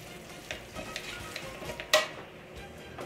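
Minced meat dumpling filling is mixed with seasoning and oil, giving faint, close, soft wet stirring and scraping with one sharper clink toward the end.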